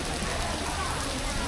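Steady tropical rain falling, a dense even hiss of drops with no breaks, close and fairly loud, with no voices over it.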